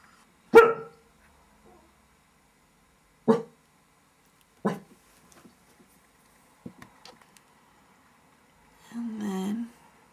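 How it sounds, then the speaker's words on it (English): A dog barks sharply in a few separate bursts in the background, with quieter rustles and small knocks between and a final muffled, longer bark or whine. "Excuse the dog barking in the background there"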